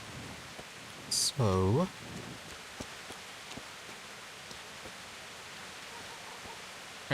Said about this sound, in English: just have Henry wait out here in the rain